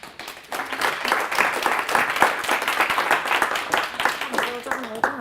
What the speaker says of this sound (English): Okay, taking the applause, lovely.